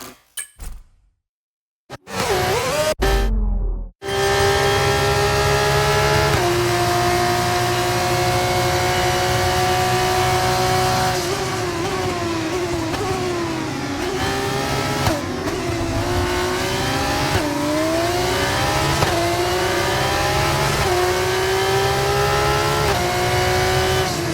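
Racing car engines roar in the F1 2024 video game, a loud sustained whine with rising and falling pitch as gears shift and cars close on slower traffic, after a brief burst of noise at the start.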